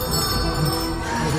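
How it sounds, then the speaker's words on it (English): Many bells ring together inside a house, a dense, sustained jangle of overlapping tones that stays loud and unbroken for the whole moment, with no voices. "Suddenly, more bells began to ring."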